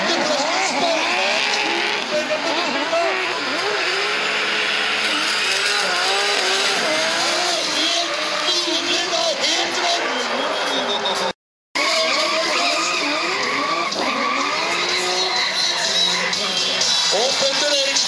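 Drift cars of up to around 1400 horsepower roar and skid through the Prodrift final, a continuous loud engine wail with squealing tires and a brief cut near the middle, under excited commentary in Norwegian.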